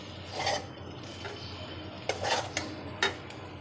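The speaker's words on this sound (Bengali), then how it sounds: "এঁচোড়টা ভাজা হয়ে গেছে, এখন একটা পাত্রে আমি তুলে নিচ্ছি" Fried jackfruit being scooped from a pan into a bowl, with a metal spatula giving several scraping strokes and sharp clinks over a faint background hiss.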